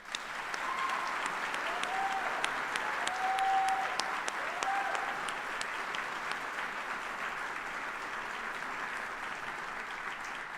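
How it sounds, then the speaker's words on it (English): Army retirement ceremony crowd giving sustained applause for 26 retiring soldiers, a broad, even wash of many hands clapping throughout, with a faint tonal whine heard briefly near the start. "please join me in a round of applause for these great 26"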